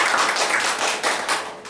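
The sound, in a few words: congregation applauding in a church service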